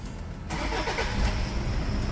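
A Toyota SW4 with a loud engine noise, power loss and about 285,000 km is started with the key: a brief cranking turns into an engine catching and settling into a loud, rough idle, close by.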